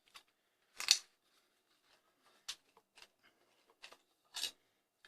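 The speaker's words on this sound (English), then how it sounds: "Might cut it a bit." Scissors trimming a spring for a modded X-Shot Skins Lock toy blaster, a few sharp, separate snips spaced by silence, close and fairly loud.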